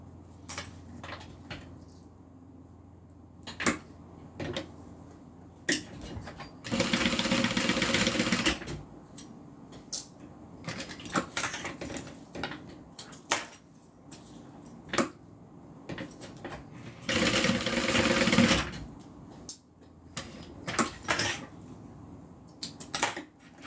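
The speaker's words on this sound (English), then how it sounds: "now I'm going to stitch it down." A sewing machine stitches down a clipped bag seam in two sustained whirring runs, each a few seconds long, set among scattered clicks and handling taps of fabric and clips.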